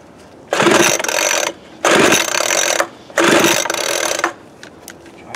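Three hard pulls on the recoil starter cord of a Troy-Bilt TB430 leaf blower, each a loud ratcheting whir lasting about a second, separated by short pauses, with no engine catching.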